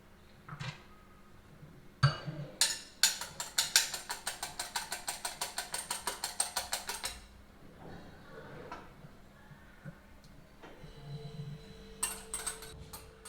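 Egg white being whisked for a red wine plum cake batter, a fast run of rhythmic mechanical whirring pulses, close and fairly loud, with quieter clinks and handling sounds around it and no speech.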